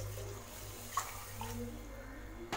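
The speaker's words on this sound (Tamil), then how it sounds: "அந்த அளவுக்கு தண்ணி ஊற்றிக்கோங்க" Water pours into a pan of sugar to make syrup for gulab jamun, a soft, faint splashing trickle lasting a couple of seconds.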